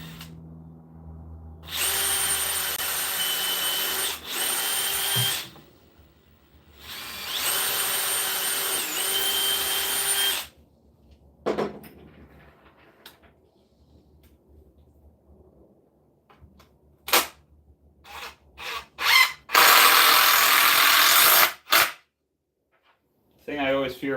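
A power drill drives screws into wood in a shop build, two loud sustained whirring bursts near the start and a third near the end, separated by quiet gaps with scattered knocks and clatter.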